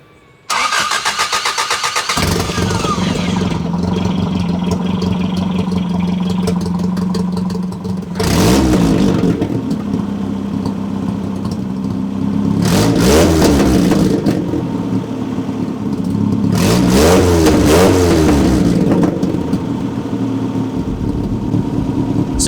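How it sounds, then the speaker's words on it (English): Old school car with a loud side exhaust starts up, then settles into a throaty idle broken by three sharp revs, close and loud, with no talking. "my wife got mad at me for revving this in the driveway earlier today because it is pretty loud"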